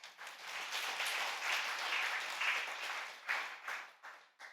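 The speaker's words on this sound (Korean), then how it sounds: "박수로 영광 올립시다" Congregation applause during a New Year's Day church sermon, a sustained wash of many hands clapping that swells and fades over several seconds, moderately distant and unaccompanied by speech.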